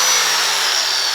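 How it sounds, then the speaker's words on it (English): Angle grinder whirring steadily at full speed after its damaged power cord was replaced, a loud continuous high-pitched motor whine with no pauses. "that's my grinder working"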